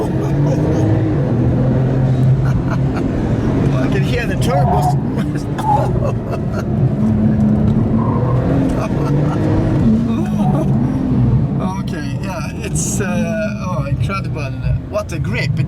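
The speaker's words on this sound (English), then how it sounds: "I can hear the turbos." A Ruf RT35 Anniversary (991) turbo engine pulls hard from inside the cabin, rising and falling through gears with turbo whoosh, while occupants chat over the continuous engine noise.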